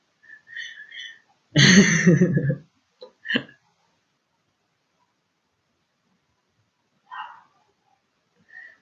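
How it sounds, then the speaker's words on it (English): A dog barks in one short, loud burst, followed by a few faint yips and whines scattered across an otherwise quiet stretch. "Ah, the freaking dog."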